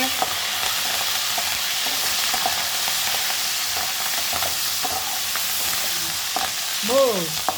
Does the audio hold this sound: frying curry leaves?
yes